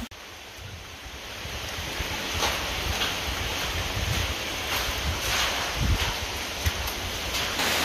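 Small waterfall about four meters high in a canyon in Jordan, a continuous broadband rushing of falling water mixed with gusty wind noise, steady and fairly close with slight swells in loudness.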